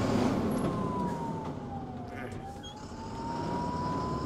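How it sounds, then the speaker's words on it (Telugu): An ambulance siren passes along a highway at night, its slow wail dipping and rising over a steady wash of road and engine noise, fairly distant and never loud. "ఈ అంబులెన్స్ సౌండ్ అయినప్పుడు నాకు భయం అవుతుంది"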